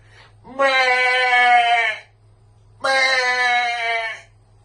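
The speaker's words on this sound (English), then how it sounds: "Why is there a sheep in here in my shower?" A sheep in a shower bleats twice, loud and close, each long wavering call lasting over a second with a short pause between, over a faint low hum.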